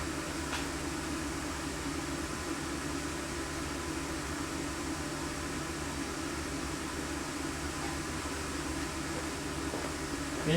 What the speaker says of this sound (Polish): Robimy pomiar głośności całego układu z klimatyzacją.